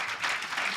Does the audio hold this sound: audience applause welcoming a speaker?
yes